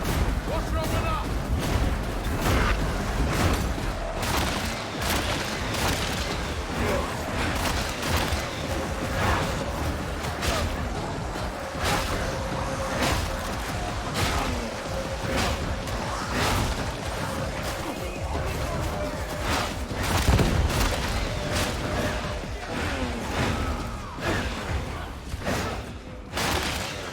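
Sniper rifle fire in the video game Warhammer 40,000: Darktide, heavy shots and booming blasts in a continuous chaotic battle, with voices shouting over the din.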